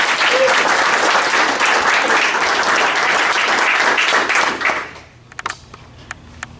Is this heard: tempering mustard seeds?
no